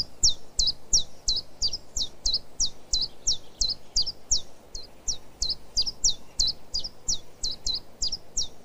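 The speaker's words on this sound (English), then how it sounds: "The chiff-chaff has a very recognisable repetitive phrase." A chiffchaff sings its repetitive two-note phrase, steady evenly spaced chirps repeated over and over, clear and fairly close with no talk.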